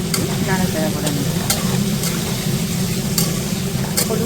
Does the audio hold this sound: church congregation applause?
no